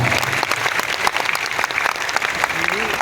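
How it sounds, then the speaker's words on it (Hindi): An audience at a gathering honouring teachers breaks into sustained applause, dense clapping filling the room from start to end, with a voice briefly heard over it near the close. "एक शानदार तालियां आप सबसे चाहता हूँ"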